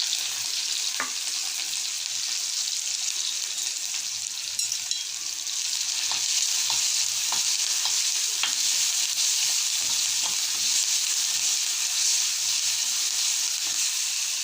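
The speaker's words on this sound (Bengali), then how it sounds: "তো আমি দিয়ে দিচ্ছি এখানে পেঁয়াজ রসুন বাটাগুলো দিয়ে দিলাম" Onion and garlic paste fries in oil, producing a loud, steady sizzle close by, with occasional soft stirring taps and scrapes over the constant hiss.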